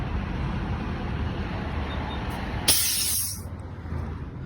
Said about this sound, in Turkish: Şu an lastik basınçları bir kontrol edeceğim ilk olarak.